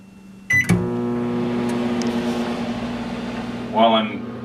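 Microwave oven running at half power, a steady low hum with a mechanical start click near the beginning, continuous and close, with a brief louder rattle or rustle near the end.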